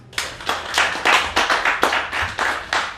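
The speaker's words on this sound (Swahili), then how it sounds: "Makofi kweli." Applause at a community campaign meeting on teen pregnancy, a handful of distinct loud claps in quick uneven succession, close and crisp, about a dozen hits with no talking.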